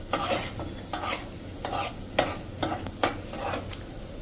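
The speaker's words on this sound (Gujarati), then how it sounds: "મીડિયમ ફ્લેમ ઉપર જ આપણે આને આ રીતે 1 મિનિટ સાંતળી લેશું" Cashews sauté in ghee over a medium flame, a soft sizzle broken by a regular rhythm of close spoon strokes, about six passes through the pan.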